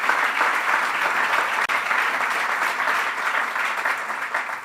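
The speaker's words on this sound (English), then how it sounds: "You could give these scholars a big round of applause" A crowd at a political event on tax reform applauds a group of scholars, sustained dense clapping from many people, steady and fairly loud with only a brief dip partway through.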